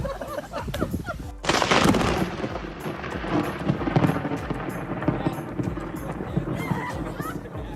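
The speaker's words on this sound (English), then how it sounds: "this groom managed to get an incredible effect when a lightning hit right after he said 2020 has not been the best year" A lightning strike cracks loudly during an outdoor wedding speech, a sudden broadband burst followed by a long rumbling roll of thunder, with people's voices and crowd reaction underneath.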